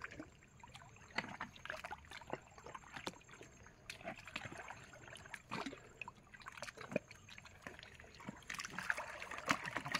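A fishing boat is hauled up out of the Garal river at ebb tide, with knocks, scrapes and scattered splashes over trickling water, steady and close, with no talk.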